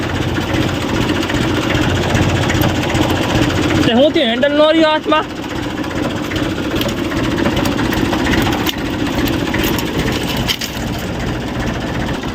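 A tractor engine idles with a steady low chugging throughout, while a person speaks briefly near the start.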